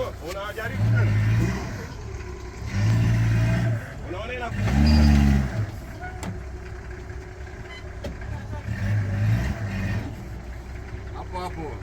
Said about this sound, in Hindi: हम भी चाहते हैं कि अरे गाड़ी निकल जाए यहाँ से, ये काफ़ी देर से फंसे हुए हैं यहाँ पे।